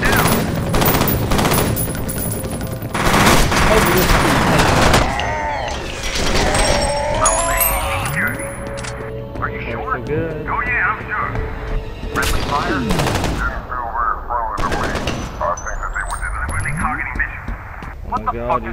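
Rapid bursts of automatic gunfire and heavy thuds in the F.E.A.R. shooter, with radio-style voices talking over the firefight, loud and dense throughout with brief lulls between volleys.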